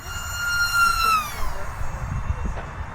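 A UMX MiG-15 radio-controlled jet with a 28mm electric ducted fan pushed to full throttle gives a high, thin whine that holds and then bends downward as it passes, with faint rumble underneath.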